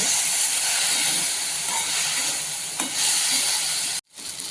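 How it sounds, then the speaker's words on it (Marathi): Soaked chana dal hits a hot pan, setting off a loud, steady steam hiss and sizzle that holds for about four seconds before cutting out abruptly, then a softer sizzle resumes; no one speaks. "हरभऱ्याची डाळ आपण भिजवून घेतलेली आहे टाकू"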